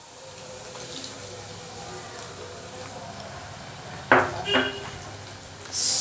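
A utensil scrapes and clatters against a pan of blanched tomatoes twice in quick succession over a steady background hiss of kitchen noise.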